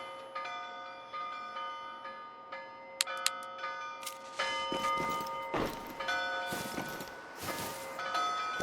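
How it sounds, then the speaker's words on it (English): A lighthouse bell in a fishing video game rings out in repeated resonant strikes, with sustained ringing tones layering over each other as the tolling grows louder and denser. "why has the lighthouse got a bell in it?"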